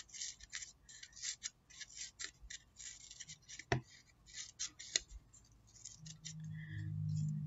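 Close, crisp scissors snips through paper come in an irregular run as strips are cut into a fringe for craft hedgehog spikes, followed at the end by a soft, steady tone.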